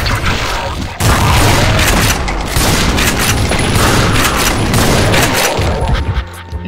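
An arc bomb detonates in a video game, unleashing a loud, dense roar of crackling blasts that starts suddenly and rumbles on for several seconds before thinning out.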